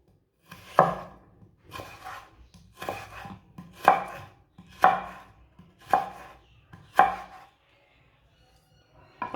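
Potatoes being cut into long pieces on a board, about seven firm, evenly spaced knife thunks, close and fairly quiet, with a short pause before a final chop.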